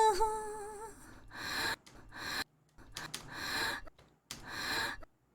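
Sharp breath intakes from a song recording being edited, several quick, close gasping inhales in a row with brief silences between them, and a faint sung tone at the start.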